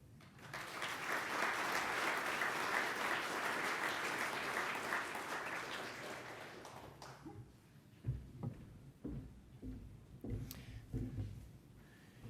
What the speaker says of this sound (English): Can I get another massive round of applause for John